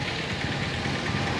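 A second-hand Kirloskar engine runs at a steady idle, a loud, continuous low rumble with an even mechanical churn throughout the short stretch and no voices.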